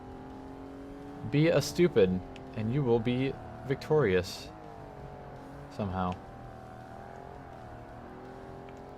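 A race car in the Forza Motorsport racing game, a big all-wheel-drive machine, revs hard through several gear changes in short bursts, then drops to a steady drone as someone talks over it.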